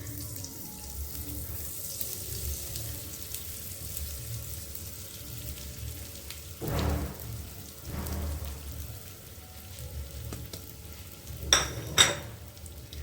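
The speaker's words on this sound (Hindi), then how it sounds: "घी के गर्म होते ही इसमें जो मैंने पीस करके रखा था गोंद को, इसे डाल देंगे" Ground edible gum tipped into hot ghee fries with a steady, close crackling sizzle, with a few louder bursts of spattering partway through and near the end.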